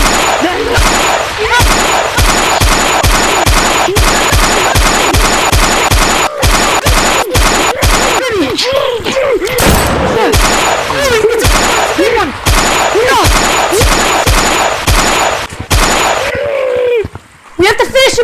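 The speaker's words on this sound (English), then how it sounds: "I shot him off!" Rapid repeated gunfire in the Gorilla Tag video game during a zombie apocalypse roleplay, a steady string of loud close shots running almost the whole time beneath excited shouting voices.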